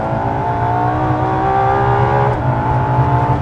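A LaFerrari's engine howls loud and close under hard acceleration, a sustained rising tone with a quick dip near the end as a fast paddle shift goes through.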